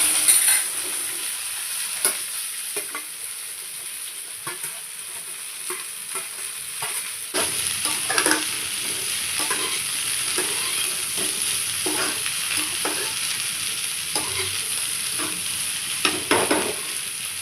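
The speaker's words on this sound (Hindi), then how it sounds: "पहले तो मैंने जीरे के साथ भिंडी को तड़का लगा लिया था, थोड़ा सा उसको चलाते हुए पकाया" Okra tempered with cumin sizzles in a pan, a steady hiss of frying with repeated scrapes and knocks of a spoon stirring at irregular intervals, close up and without talk.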